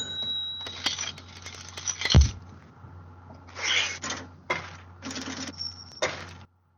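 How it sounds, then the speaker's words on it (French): A cash register rings and clatters in a podcast jingle: mechanical ratcheting bursts and bell-like dings in several separate clusters, with one sharp low thump near the middle, fairly loud and free of talk. "on espère avoir un peu ce bruit de caisse enregistreuse dans pas longtemps"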